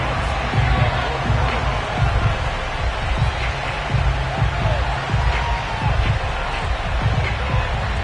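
Sold-out stadium crowd noise in an EA Sports NFL video game, Saints at Patriots, a steady broadband roar of the crowd with slight rhythmic swells throughout.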